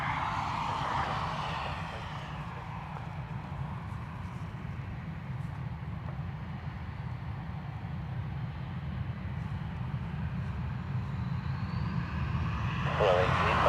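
An airliner taking off from runway 10 right at Dublin Airport, a steady distant roar of aircraft engines that holds throughout and grows louder toward the end, with faint radio chatter in the background.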